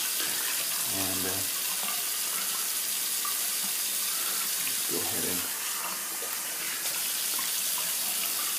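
Water runs continuously from a bathroom tap during a wet shave, a steady hiss and splash throughout, with someone briefly speaking over it twice.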